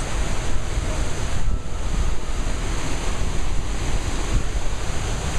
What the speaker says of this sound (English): Small country, small falls.